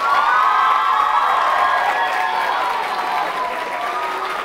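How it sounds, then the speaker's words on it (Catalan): Sustained applause from an audience, steady clapping throughout with a few cheers mixed in, loud and dense from start to finish. "els hi fem aquest aplaudiment. Aplausos"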